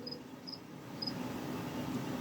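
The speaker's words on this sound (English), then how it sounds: "When you hold down cricket" Cricket chirp effect triggered from a Vivitar mixer sound pad, a steady high-pitched chirping trill repeating in short bursts over a low background hum, held continuously with no talk.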